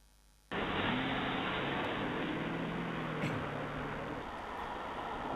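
A test car approaching on a test track in Sindelfingen, a broad steady rush of engine and tyre noise rising suddenly and holding loud and close, with a faint low hum beneath.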